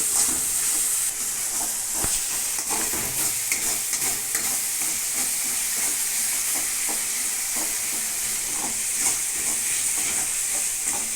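Masala paste sautéing in oil for a chicken gravy, a steady loud sizzle with frequent scraping stir strokes throughout, no talk.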